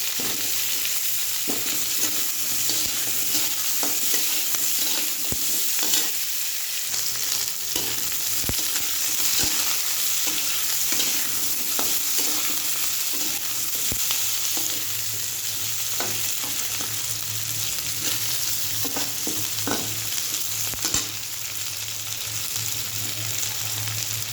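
Potatoes frying in a generous amount of hot oil left over from frying fish and cauliflower, a continuous close sizzle with occasional clinks and scrapes of stirring.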